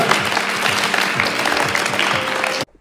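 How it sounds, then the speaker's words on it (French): A crowd applauds warmly at a school event, dense steady clapping that fills the space and then cuts off abruptly near the end. "Vous pouvez vous applaudir les amis, c'était top, bravo, génial, félicitations."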